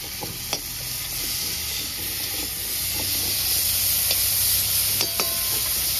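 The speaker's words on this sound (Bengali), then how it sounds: "চিংড়ি মাছগুলো খুব ভালো করে ভাজা হয়ে গেছে।" Shrimp sizzle in hot oil in a pan with a steady, loud hiss, while a utensil scrapes and clicks intermittently as it stirs them.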